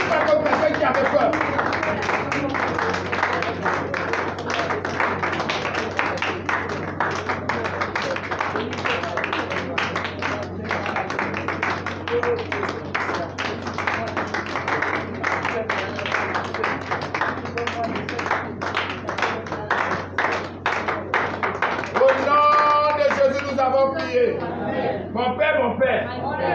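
Rhythmic hand clapping at a prayer service, with a steady run of taps layered under a congregation's chatter and voices. It continues throughout, dense and moderately loud.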